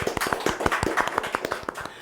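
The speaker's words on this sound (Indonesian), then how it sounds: "Tepuk tangan dulu dong." A small group claps hands during a casual Indonesian talk session, a short run of sharp, close claps with a quick, uneven rhythm, heard on their own without voices.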